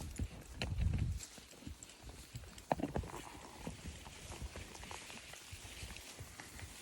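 Hooves clop unevenly on wet ground, a horse walking close by with irregular, slightly stumbling steps over a soft outdoor background.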